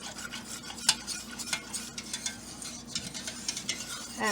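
A spoon stirs a thick chicken cordon bleu sauce in a pan, producing soft wet swishing and scraping strokes in an irregular rhythm, close and fairly quiet, with faint sizzling beneath and no talk.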